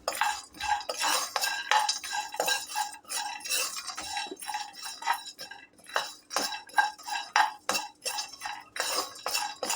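Peanuts, dry coconut, coriander and sesame roast in oil in a pan, heard as dense, irregular scraping and clinking of a utensil stirring against metal, close and busy throughout.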